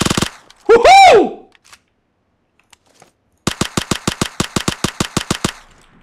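An Uzi submachine gun in PUBG Mobile fires a rapid burst of about a dozen sharp, loud, evenly spaced shots after a brief shout and a pause.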